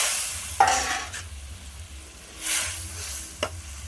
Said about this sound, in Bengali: দেখো ঝোলটা ফুটে গেছে, দিয়ে দেবো মাছগুলো।